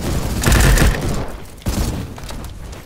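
Gunfire in the Roblox-style shooter Bad Business, a dense burst of rapid shots followed by a second volley, loud and close with no talking.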